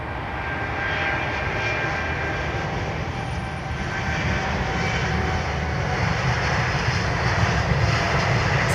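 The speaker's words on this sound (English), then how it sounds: "Listen to these rumbling tyres" Steady, loud rumble from an aircraft rolling on runway 27R, a broad continuous roar of engine and tyre noise that holds evenly and swells slightly toward the end, with no voices.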